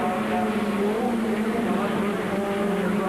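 Formula Ford 1600 race cars at Brands Hatch in 1991, a loud continuous drone of several engines racing together, steady and dense with shifting engine tones.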